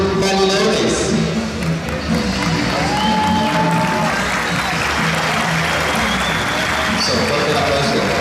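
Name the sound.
applause for a volleyball club at an opening ceremony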